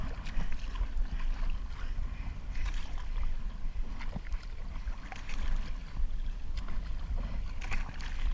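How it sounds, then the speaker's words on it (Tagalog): Strong sea waves rock and slap against a small boat off Quezon, a steady rushing wash with wind noise and irregular splashes throughout, fairly close and loud with no talking. "Pag mga ganitong malakas ang alon, yung bahay ang alon, hindi naman tumutumba yung bangka eh."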